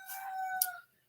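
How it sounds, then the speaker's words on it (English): A pet rooster crows indoors, one full cock-a-doodle-doo call close by and fairly faint, ending in a brief sharp note, with no talking. "That's my rooster."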